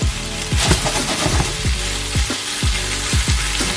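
Chicken picado with bay leaf frying undisturbed in a pan, a loud continuous sizzle and crackle, close up, with a regular low thumping running underneath.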